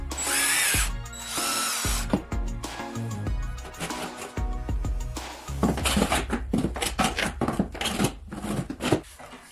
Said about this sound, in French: la vis entrera facilement dans le bois sans résistance ni tourner sur place